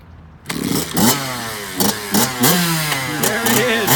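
A used 2014 Kawasaki KX65 two-stroke kiddie motocross bike starts up in a service department and revs in sharp repeated blips, each rising and falling, loud and close.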